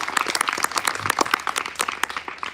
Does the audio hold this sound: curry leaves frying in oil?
no